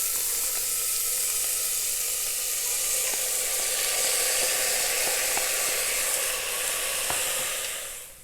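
Beans tipped into a pan of well-browned onions sizzle loudly and steadily, a dense frying hiss with faint scraping stirs, tapering off at the very end.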